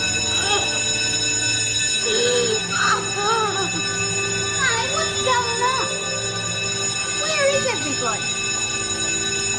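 An alarm bell rings without pause inside a women's prison cell block, a steady metallic tone running under the whole stretch while several people talk over it.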